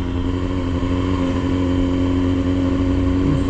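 A Kawasaki Z900 superbike engine revs steadily and loudly up close, a dense continuous roar with a low throbbing hum throughout.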